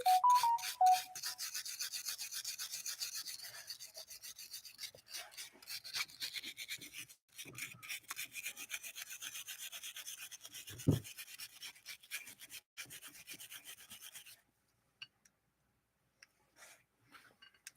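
A Singer 201-2 sewing machine part is scrubbed by hand to remove crud, giving a steady close rasping, brushing scrape in quick repeated strokes for about fourteen seconds before it falls nearly silent.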